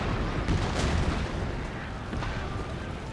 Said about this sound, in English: Here's the artillery coming in.